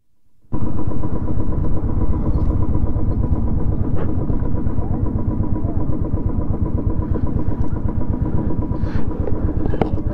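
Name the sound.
vehicle engine being tested on an uphill road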